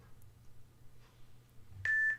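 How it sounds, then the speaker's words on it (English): An exercise timer gives a short electronic beep near the end of a quiet stretch, a brief loud tone with a second blip just after it. "And that's the end of the timer."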